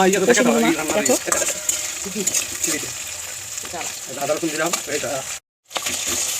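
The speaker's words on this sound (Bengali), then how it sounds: "তারপর তেলের মধ্যে মা দিয়ে দিল আদা রসুন বাটা" Ginger garlic paste frying in oil gives off a constant crackling sizzle, close and fairly loud, with someone talking over it much of the time.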